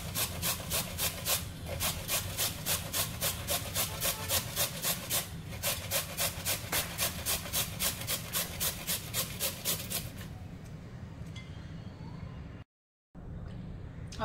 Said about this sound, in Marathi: आपलं गाजरही किसून झालेले पाहू शकता।